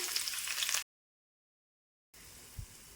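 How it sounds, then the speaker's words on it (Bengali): Dried chillies, chopped onion and garlic fry in hot oil, a soft, bright sizzling hiss that cuts out abruptly into silence and then returns more faintly. "শুকনো মরিচগুলি ভেজে নেওয়ার পর দিয়ে দিচ্ছি কিছু পেঁয়াজ রসুন কুচি"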